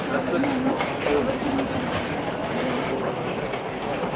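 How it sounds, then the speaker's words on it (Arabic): Rumble and clatter of trains at Düsseldorf railway station in Germany, a continuous low mechanical roar with faint screeching tones, heard under nearby talk. "هذا هو بركة الحقيقة محطة دوسلدورف تعتبر من المحطات الكبار اللي هنا في ألمانيا"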